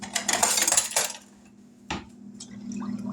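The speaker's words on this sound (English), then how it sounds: "let's give this a stir" Salt stirred into pickling liquid for okra: a loud second of sloshing and clinking, then a quieter lull broken by a single clink and soft swirling near the mic.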